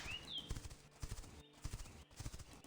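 A wild horse in the video game The Quinfall, with close, rhythmic hoof clip-clops on hard ground and a brief high neigh at the start.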